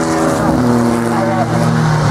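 A race car at the Oberlausitzer Dreiecksrennen hill-climb roars past loud and close, its engine note sliding in pitch as it goes by, with a voice talking over it.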